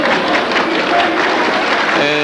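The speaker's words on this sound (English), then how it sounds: "And Randy leaves to a round of applause." A basketball crowd in a high school gym applauds as an official walks off the court, a loud, sustained round of clapping with commentary voices running over it.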